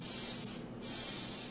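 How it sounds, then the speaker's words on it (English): Cooking oil sprayed lightly over breaded green tomatoes before baking: two close, continuous hissing aerosol bursts with a brief dip between them, no talking. "Spray oil lightly,"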